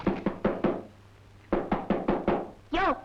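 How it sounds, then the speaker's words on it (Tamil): Knocking on a garden door: two sets of four sharp, evenly spaced raps separated by a pause, close and clear, followed by a brief voice. "யாரையா தோட்டத்துக்கு கதவை தட்டுறது?"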